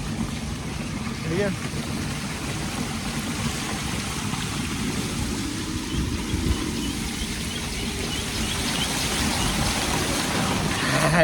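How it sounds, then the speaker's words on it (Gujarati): Steady rain hiss fills the scene, a broad constant wash with low rumble underneath and faint voices in the background. "વરસાદ ચાલુ છે"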